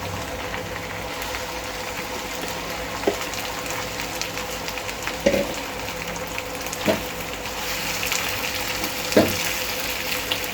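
Minced meat (keema) sizzles with onions in a pan for a keema karahi, a steady close frying hiss with a few soft clinks or stirs breaking through.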